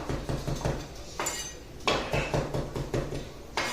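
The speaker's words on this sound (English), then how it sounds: "I'm just going to chop that parsley" A knife chops fresh parsley on a cutting board in a home kitchen, giving a quick, fairly regular series of close knocks against the board.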